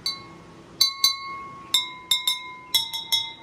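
Cups filled with different water levels are tapped in a quick, uneven rhythm of about ten glassy clinks, close and clear, each ringing a distinct pitch, with no voices.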